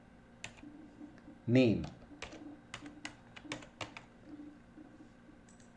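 Python code is typed on a computer keyboard in a quiet room, with scattered soft key clicks and a few sharper taps, while someone speaks briefly between them.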